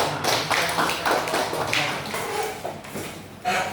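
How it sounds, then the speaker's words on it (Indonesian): A university class applauds a student group after its presentation at the end of a lecture: steady, dense clapping from many hands that runs for the whole stretch at an even level. "Oke, kasih aplaus buat kelompok 4."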